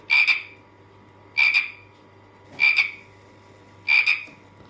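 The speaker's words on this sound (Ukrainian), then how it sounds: "а потім у нас була жаба" A frog croaks four times at a steady, evenly spaced rhythm, each croak short and raspy against a quiet background.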